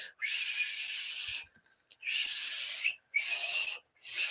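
A breathy, hissing whistle sounds in three long blows separated by short pauses, close and fairly quiet, with no talking.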